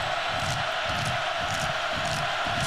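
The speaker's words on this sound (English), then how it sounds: "Crowd getting loud on 3rd and 19." A large college football stadium crowd at Colorado versus Oklahoma State builds into a steady, dense roar on a third-and-long, loud and continuous with no break.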